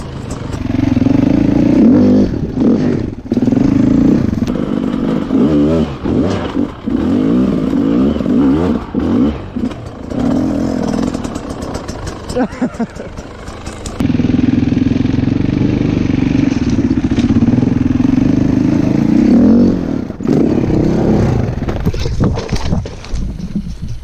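An enduro motorcycle engine idles and revs loudly at close range for a sustained stretch, with rough fluctuating drone, brief dips and wind buffeting against the microphone.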